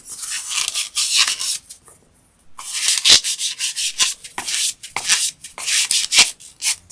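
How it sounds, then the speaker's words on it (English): Sanding the surface of a handmade glitter pen, with steady close rubbing strokes in repeated bursts and a brief pause near the start, and no talking. "we're just going to sand that"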